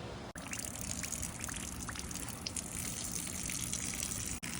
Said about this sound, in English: going to allow the water to flow out the filter